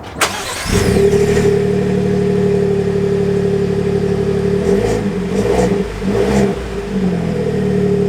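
A 2024 Ford F-150 with the 3.5 engine starts up and accelerates, its engine droning steadily and close, with shifts in pitch near the end as it revs through gears.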